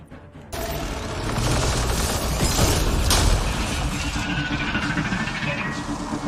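Sustained gunfire from Mass Effect: Andromeda, a dense, loud volley of shots and clattering impacts running nearly without pause, with a brief quiet moment at the very start.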